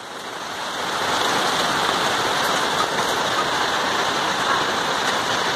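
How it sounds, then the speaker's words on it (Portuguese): Heavy rain falling outdoors, a dense, steady wash of pattering that swells over the first second and then holds loud and even, with no voices. "Essa chuva vai provocar uma mudança de planos aqui,"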